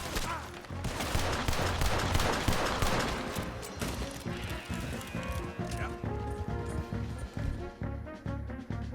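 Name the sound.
gunfire in video game Red Dead Redemption 2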